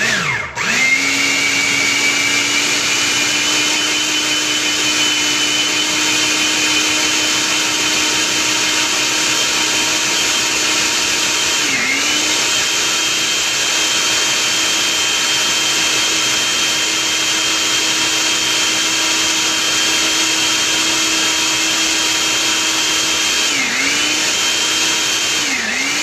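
A blender runs steadily and loud, pulsing through an avocado mac and cheese sauce with lemon juice, its motor whine holding even with brief dips at each pulse restart.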